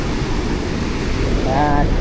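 Large waves surge and crash ashore during Typhoon Inday, a continuous loud roar of churning surf and wind buffeting the microphone, with a faint tonal whine near the end.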